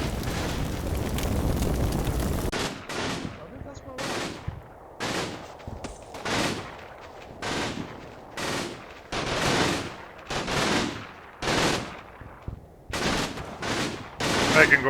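Sustained gunfire in the WWII tactics game Combat Mission Final Blitzkrieg, repeated bursts of machine-gun and rifle fire with heavy booming reports arriving roughly every second, loud and dense over a rumbling start.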